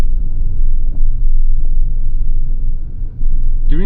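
Chery Tiggo Cross 1.5 HEV hybrid SUV accelerating at moderate throttle, heard from inside the cabin as a loud, steady low rumble of road and engine noise, with a brief dip in level near the end.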